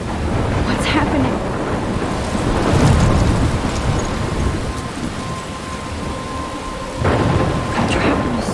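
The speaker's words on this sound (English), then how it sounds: "I'm trapped in a storm?" Heavy rain pours steadily in a thunderstorm in Life Is Strange, with loud rolls of thunder swelling in the middle and cracking again near the end.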